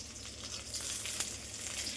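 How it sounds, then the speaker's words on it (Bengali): Garlic frying in a pan for a home-cooked breakfast, a steady close sizzle with broadband crackle and a few sharper pops, continuous and fairly loud with no talking. "এটা রসুন ভাজা চলছে"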